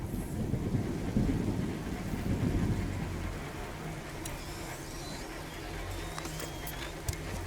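Thunder rumbles during a storm in the video game A Plague Tale: Innocence, a loud low roar with steady rain that swells early, then settles into a continuous downpour with faint crackles near the end.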